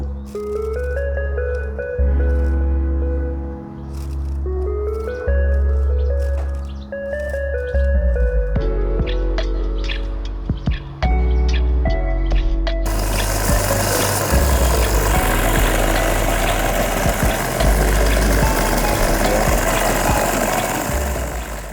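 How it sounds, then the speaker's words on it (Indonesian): An old machete blade is sharpened on a polishing machine: a steady motor hum with repeated tonal passes, then the scraping of metal against the wheel turns into loud, continuous grinding. "kita ikuti irama dari mesin polesnya, teman-teman"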